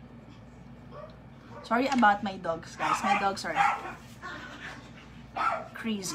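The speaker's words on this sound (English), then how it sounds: "Sorry about my dogs, guys." Dogs bark outside a home, with a run of sharp barks and higher yips at moderate distance, mixed with someone talking nearby.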